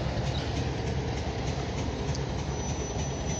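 A grain hopper freight train on the OC&T line rolls past outdoors, a steady broadband rumble and rail noise holding loud and continuous throughout with no break.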